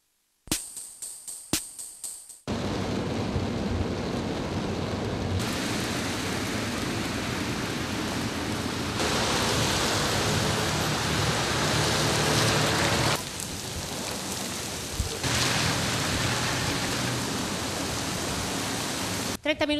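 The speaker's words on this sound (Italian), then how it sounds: "nessuno aveva previsto che pioggia e vento sarebbero arrivati con così tanta forza" Heavy rain and strong wind from a sudden summer storm over a city, a dense, loud, steady roar of downpour that swells and shifts in intensity, with no voices over it.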